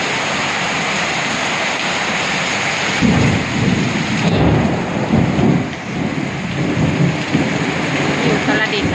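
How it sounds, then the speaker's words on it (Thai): Heavy night rain hisses steadily in Uttaradit, Thailand, then a loud, close thunderclap breaks in and rolls on for several seconds over the downpour. "ตอนนี้ฟ้าร้องฟ้ากำลังดังมากเลย"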